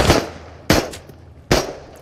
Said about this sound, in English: I want to shoot him from here,